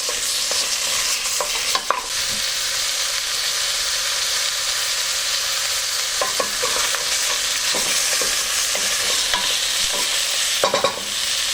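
Pork trotters sauté with onion and garlic in a hot pan, throwing off a loud continuous sizzle punctuated by repeated scraping and knocking of a spoon stirring the pieces, without any talking.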